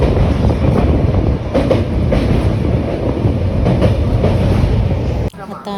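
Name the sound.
passenger train in Punjab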